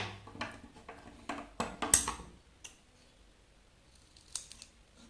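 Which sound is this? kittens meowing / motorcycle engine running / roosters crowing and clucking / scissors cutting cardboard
scissors cutting cardboard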